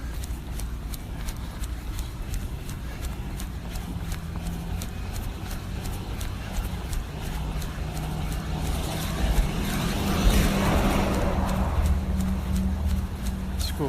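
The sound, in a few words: school bus driving by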